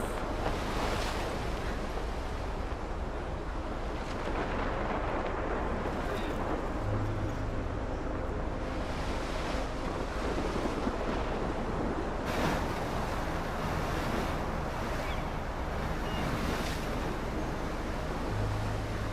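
Storm wind roars and waves crash continuously in the game Life Is Strange, a dense, loud wash of surf and gusting wind with faint tones underneath.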